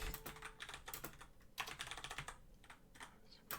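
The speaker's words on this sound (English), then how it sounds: "Oh, my typing skills. So rusty." Quick, irregular clatter of fingers typing on a computer keyboard, steady and soft, with no voices over it.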